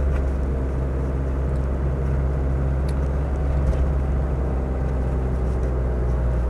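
A Land Rover Discovery 300Tdi automatic drives with a steady low engine drone and road rumble, fairly loud and constant from inside the cabin, with no talk.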